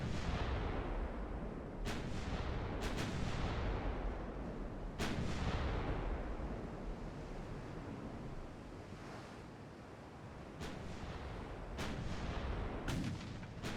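Battleship gunfire from a battle line of six battleships in Ultimate Admiral: Dreadnoughts, Germany 1890: scattered sharp distant cannon reports over a constant roar of sea and wind.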